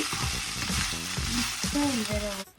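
Chicken kottu frying in a pan while spice powder is stirred through it, with a steady hiss and repeated scraping strokes from the spoon, close and continuous, plus a short tonal whine near the end.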